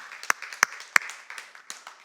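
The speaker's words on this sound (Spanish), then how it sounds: "Le damos un aplauso al Señor" A church congregation claps in praise, a few loud, distinct hand claps spaced roughly a third of a second apart, fading into softer scattered claps, fairly close and without speech.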